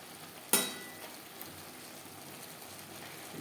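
Snake gourd (chichinga) stirred and fried in a pan over a high flame: one sharp utensil clank near the start, then a faint, steady sizzling hiss.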